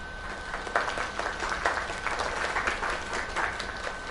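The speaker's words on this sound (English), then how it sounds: "Another round of applause." Audience applause in the video game Lake, a steady dense crowd clapping at moderate level, continuous for several seconds without a break.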